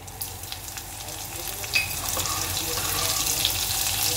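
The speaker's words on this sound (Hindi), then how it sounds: "तेल में हम डालेंगे राई और जीरा, ये देखिए ये चटक रहा है।" Mustard seeds and cumin crackle and sizzle in hot oil in a pan, a soft steady fizz dotted with small pops that grows slightly louder toward the end.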